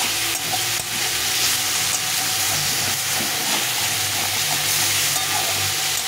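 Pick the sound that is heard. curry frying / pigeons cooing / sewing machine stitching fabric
curry frying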